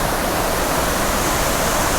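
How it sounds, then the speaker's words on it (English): A waterfall near a creek on Vancouver Island roars as a steady, loud, broadband rush of falling water, unbroken and alone throughout. "now I can see that there is in fact a waterfall basically in the middle of the screen"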